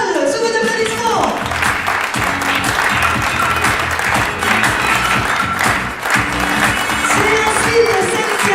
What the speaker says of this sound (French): Donc nous allons accueillir Paul, sous vos applaudissements.